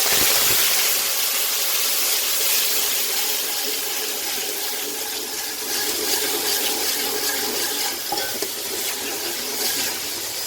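Water pours steadily into a pot holding a dark-browned mixture for rice, a continuous hissing splash with no one talking.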